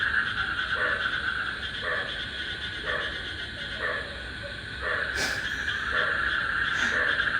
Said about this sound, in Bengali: ব্যাঙে ডাকতেছে।